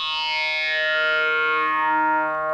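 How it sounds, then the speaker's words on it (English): A MicroFreak synthesizer running its vocoder with widened EQ filter bandwidths gives a sustained, buzzy, chord-like tone that smears together and holds steady for a couple of seconds, with no voices. "that's where the bandwidths of these EQ filters in the vocoder sort of blur together"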